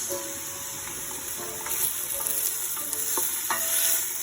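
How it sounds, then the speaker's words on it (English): Onions sauté in oil and butter for kare kare, a close, steady sizzle with light stirring clicks and scrapes, and no voices. "Putting in the onions."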